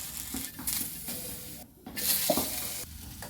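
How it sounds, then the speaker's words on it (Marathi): Chilies, onion and tomato roasting and being stirred on a hot griddle over a wood-fired stove, a steady sizzle and crackle with occasional scraping and rustling, close by with no talking. "चुलीवरती तवा तापत ठेवलाय त्यावर खरड्याचं सगळं सामान भाजून घ्यायचं"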